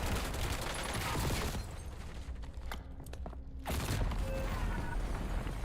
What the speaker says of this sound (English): Enemy airstrike in the air.